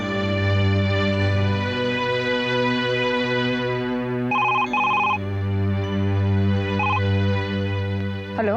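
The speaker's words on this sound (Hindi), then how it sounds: "मैं मल्लिका को फोन कर देता हूँ कि तुम बच्चियों से मिलने आ रही हो।" A telephone rings with a steady electronic tone, repeating in bursts against a continuous background hum, loud and close.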